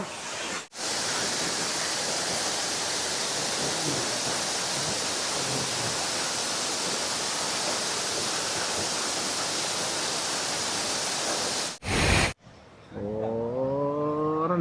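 Continuous broadband rush of a waterfall, loud and unbroken, briefly cut near the end before a voice speaks over the quieter tail.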